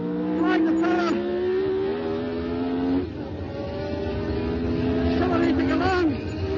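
A race car accelerates through the gears on a circuit, its engine pitch climbing in rising sweeps, briefly dropping at each gear change, and then climbing again, with someone talking over it.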